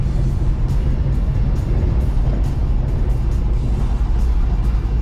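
1969 Ford F250 Camper Special truck driving over a very bumpy street, steady loud low engine and road rumble from inside the cab with faint rattles and knocks throughout.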